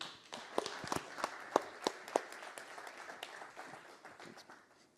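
Scattered applause from a small audience, with several sharp individual claps that thin out and fade over a few seconds.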